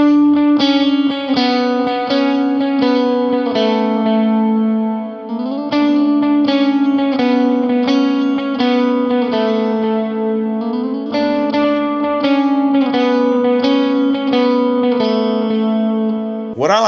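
Clean electric guitar with a delay effect plays a worship melody, single picked notes echoing into a continuous shimmering rhythmic pattern at full volume, no talking.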